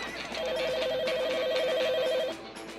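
A cartoon telephone rings at home with a rapid, warbling electronic trill that holds steady for about two seconds and then stops, with no one answering.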